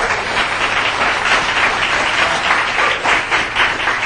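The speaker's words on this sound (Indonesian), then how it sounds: "Tepuk tangan untuk sikap Bapak Ibu ya." A seated audience at a business seminar breaks into continuous loud clapping, a dense even wash of applause with no talking on top.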